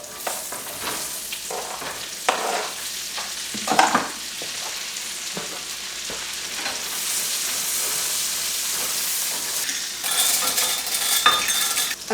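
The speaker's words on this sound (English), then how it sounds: "Gonna add my zucchini in here." Sliced zucchini with pesto sizzling in a hot frying pan on a home stove, a steady fry hiss with intermittent scraping stirs of a utensil against the pan, close and fairly loud, no voices.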